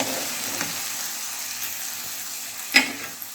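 Chicken macaroni frying in a pan with a steady, close sizzle throughout and a brief louder spatter near the end; no one talks.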